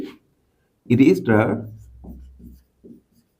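A math solution is written by hand with pen or marker, producing faint scratching strokes under a person's steady talk.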